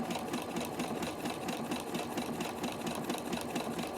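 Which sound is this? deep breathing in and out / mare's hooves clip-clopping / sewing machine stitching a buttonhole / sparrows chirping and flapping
sewing machine stitching a buttonhole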